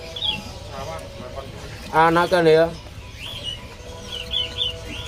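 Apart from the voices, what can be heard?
bar-winged prinia (ciblek) chirping at bird market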